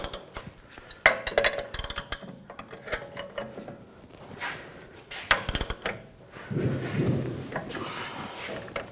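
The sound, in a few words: loosening and removing a wheel bearing tool on a BMW 550i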